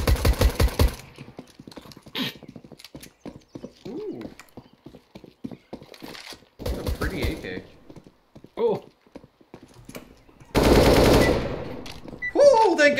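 AK rifle fire in a first-person shooter video game comes in sharp bursts, a rapid volley at the start and more bursts later, mixed with short in-game noises and gaps.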